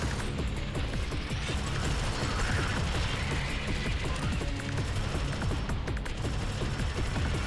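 An automatic turret in the video game Alien Swarm: Reactive Drop fires rapid, continuous bursts that crackle densely over a loud, busy game soundscape.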